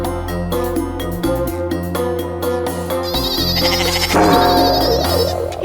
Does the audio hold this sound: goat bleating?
yes